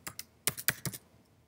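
Computer keyboard typing: about six sharp, irregular keystrokes in a quick burst over a second, close and fairly quiet, then near silence.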